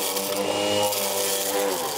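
A Greenworks cordless brush cutter fitted with a cross blade slices through thick branches, its high motor whine steady and close for a couple of seconds with no talking.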